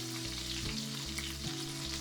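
Beef short ribs brown in a teaspoon of oil in a preheated pan, giving a continuous bright sizzle and crackle at close range with no talking.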